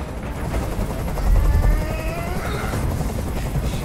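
Helicopter rotor drone in the video game Detroit: Become Human, a steady low thumping wash that holds at an even loudness throughout, with no one talking over it.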